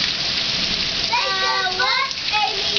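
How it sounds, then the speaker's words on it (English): Rain pours steadily during a tornado storm, a dense hiss under a voice and other brief speech, with the downpour continuous and close throughout. "I never really have showered in the rain"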